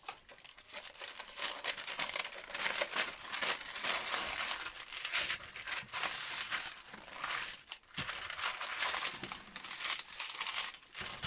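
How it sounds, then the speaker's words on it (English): Continuous crinkly paper rustling, loud and close, crackling steadily with brief pauses and no talking. "nice crinkly paper for your microphone"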